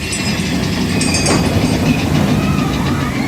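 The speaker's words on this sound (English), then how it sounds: "you can hear the train chugging along behind me" A Big Thunder Mountain theme park train at Disneyland rumbles steadily past nearby, a continuous low mechanical roll with faint metallic clatter and squeal above it, no talking.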